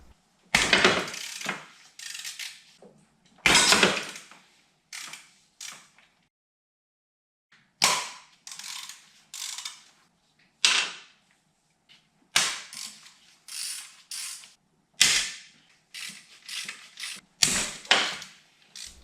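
Timing guide pins being undone on a BMW engine give repeated close ratcheting clicks and clacks in short bursts separated by pauses, with no talk.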